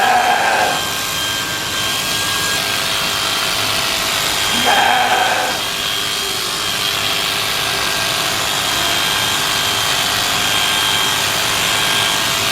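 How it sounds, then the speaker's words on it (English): Electric shears clip a ewe lamb during sheep shearing, giving a loud, steady motorized buzz that drones unbroken throughout, with brief shifts in pitch as the blades work through the fleece. "So we just gotta get her trimmed down so we can slick shear."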